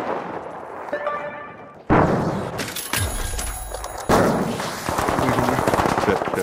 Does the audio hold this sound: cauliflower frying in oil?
no